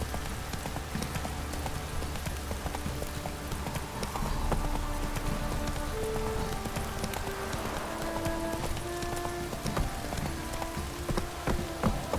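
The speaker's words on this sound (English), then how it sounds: "This downpour's a bastard" Steady heavy rain in The Witcher 3: Wild Hunt hisses throughout, mixed with hoofbeats clip-clopping along and a few tonal game sounds.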